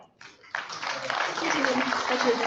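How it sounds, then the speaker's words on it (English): Audience applause for State Assembly Member Ed Chow at an annual evening gala of a Chinese-American professors and scholars association, rising after a brief voice into a broad, steady wash of clapping that grows louder and holds. "another round of applause for State Assembly Member Ed Chow"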